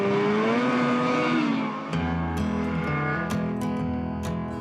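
Drag racing sleds at an Alaskan event, engines revving hard with a rising whine, then shifting into overlapping roaring tones with sharp cracks and pops, loud and continuous.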